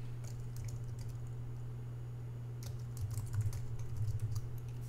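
Typing on a computer keyboard while editing text in After Effects, a quiet run of soft clicking keystrokes in irregular bursts over a steady low hum, with no talk.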